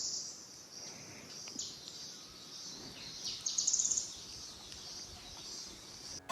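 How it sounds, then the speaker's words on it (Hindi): Birds chirp and call in dense mountain forest in Uttarakhand, a steady high chorus with insect-like trilling and one louder burst of song midway. "इस घने जंगलों में अनगिनत पक्षियों की आवाज़ आप सुन सकते हो जो सुकून दे रही है मन को"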